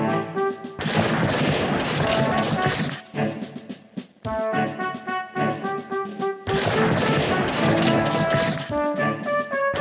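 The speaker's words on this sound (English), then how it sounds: "give him some artillery fire" Artillery fire in the Civil War Generals 2 strategy game: loud, dense bursts of booming cannon and crackling volleys fill most of the stretch, broken by a brief lull near the middle, alongside tonal music.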